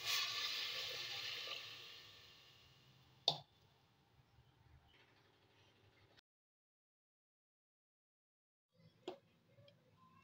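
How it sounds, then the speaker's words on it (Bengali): Water is poured into a pot of mutton for soup. A splashing, hissing pour starts loud and fades over about two seconds, followed by a sharp clink, near silence and a faint later tap. "এবার আমি এর মধ্যে জল ঢেলে দিচ্ছি।"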